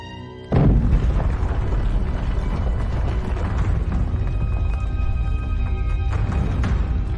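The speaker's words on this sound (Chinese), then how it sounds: "研究房里发生了爆炸" Explosion in a research room used as a drama sound effect: a sudden heavy boom bursts in after half a second, then a sustained loud rumbling roar carries on to the end.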